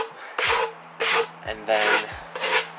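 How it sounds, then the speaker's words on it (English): Hand sanding along the edge of a worn fifteen-year-old wooden outdoor bench, in four distinct rasping strokes with short pauses between them, close and clear, with a few brief spoken words. "start off sanding this way"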